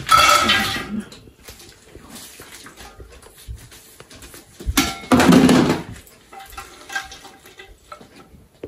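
Washed and cut lemongrass, cinnamon sticks and ginger are dropped into a cooking pot, giving two loud bursts of clattering and clinking, one at the start and one midway, with quieter knocks between and no talk.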